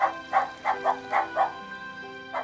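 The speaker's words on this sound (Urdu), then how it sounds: "اچانک ہی دور سے اسے کچھ کتوں کے بھونکنے کی آوازیں آنے لگی" Cartoon dogs barking, a run of about six rhythmic, evenly spaced woofs with a steady musical drone underneath, moderately loud rather than truly distant.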